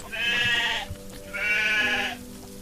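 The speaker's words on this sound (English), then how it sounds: "the sheep like being in the greenhouse, except when it rains, then they want to be out" Two drawn-out sheep bleats from the video game Solarpunk, each lasting under a second with a short pause between, clear and fairly close over a soft ambient background.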